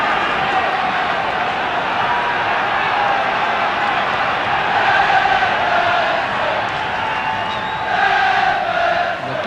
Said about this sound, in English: Goodison Park crowd now trying to raise their side